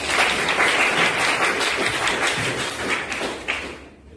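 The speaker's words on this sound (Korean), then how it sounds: "박수." An audience at a student presentation in an industrial equipment class breaks into dense, sustained applause that fills the room, holding steady before cutting off abruptly near the end.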